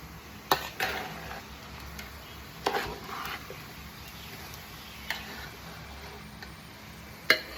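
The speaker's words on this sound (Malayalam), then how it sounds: "ഇനി ഈ ഇളക്കിക്കൊണ്ടിരിക്കുന്നത് എന്താണെന്ന് വെച്ചാൽ നമ്മുടെ ക്യാബേജ് തോരനാണ്." A spoon stirs cabbage thoran in a pan, giving soft continuous scraping with sharp clinks against the pan at irregular intervals, close and fairly quiet, with no one talking.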